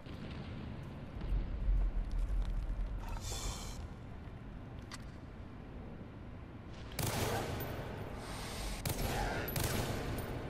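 Gunfire in the shooter Far Cry 3 rings out in loud bright bursts, one early and several clustered in the back half, against low rumbling jungle ambience with no speech.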